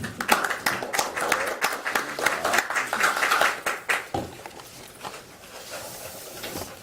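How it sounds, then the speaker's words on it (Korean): Audience at a Liberty Korea Party economic pledge announcement claps in welcome for the party leader, with a few seconds of moderately loud, uneven clapping that thins out and fades to quiet room noise. "박수로 환영해 주시기 바랍니다"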